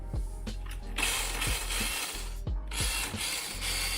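A small 4500 kV motor and metal gearbox in a WPL D12 RC car whir at high speed with a smooth mechanical buzz, revving up and easing off in short bursts, close to the listener.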